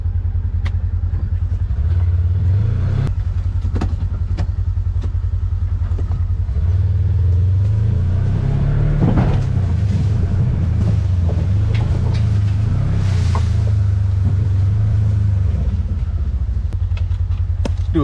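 A Ranger 1000 side-by-side drives through the woods, its engine humming loud and close and rising and falling as it accelerates, with clatter and brush snapping against the body.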